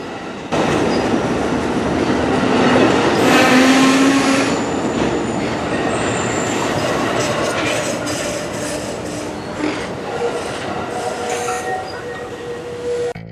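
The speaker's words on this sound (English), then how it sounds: "Pulling the train this morning was Amtrak 95, a GE P42DC, built in 1997." An Amtrak train pulled by a 1997 GE P42DC diesel locomotive rumbles in loudly and steadily, with wheel squeal and clattering rail noise as it rolls past close by.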